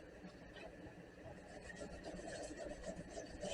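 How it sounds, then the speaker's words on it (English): A brass brush scrapes rust off metal model train passenger car parts in quiet, steady scratchy strokes that grow slightly louder toward the end. "just a brass brush to scrape these now, just to get some of the rust off."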